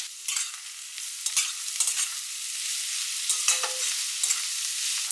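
Mixed vegetables with salt, pepper and spring onion are sautéed in a pan, giving a continuous sizzle broken by repeated scraping strokes as they are stirred. No voices are present.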